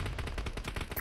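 Rapid bursts of gunfire crackle through a PUBG Mobile match on the Erangel map during a championship, with grenades rolling in; repeated sharp shots fill the whole second at a steady, fairly loud level.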